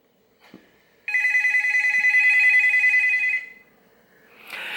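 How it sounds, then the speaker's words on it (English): A loud, bright telephone ringtone trills continuously for a couple of seconds, rapid and buzzy, bracketed by a couple of small clicks before and a rush of noise after. "I had to get a new drama phone ring."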